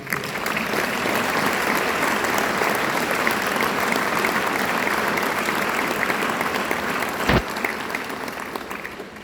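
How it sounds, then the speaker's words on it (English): Sustained applause from a graduation audience honouring academy instructors, a dense steady clapping wash throughout with one sharp louder clap near the end. "So I'd like to give a round of applause to our instructors."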